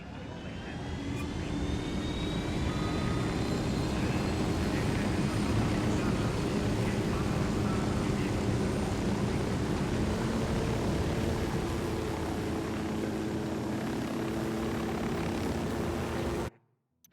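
Aircraft engine droning steadily in the Ghost Recon Wildlands video game, a loud continuous propeller hum with tonal whine lasting throughout before cutting off abruptly at the end.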